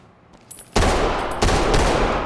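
An MK-5 submachine gun loaded with hollow point rounds fires in the tactical shooter Ready or Not, loud close bursts of rapid automatic fire after a brief quiet start, with a short break between two sustained volleys.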